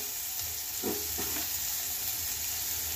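Finely chopped green chili dropped into onions frying until pink, giving a soft steady sizzle and hiss with a brief stirring clatter, quiet and close.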